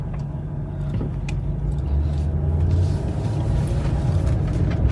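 A Land Rover Range Rover in all-wheel drive pulls away in low range, its engine giving a steady, close, low rumble that swells slightly as it moves off, with no talking.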